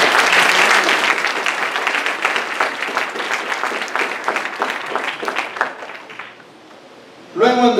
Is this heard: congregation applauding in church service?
yes